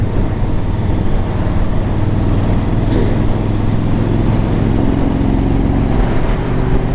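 A 2009 Yamaha V Star 1300 cruiser motorcycle rumbles steadily while being ridden, a continuous loud engine drone with wind and road noise throughout and no clear speech.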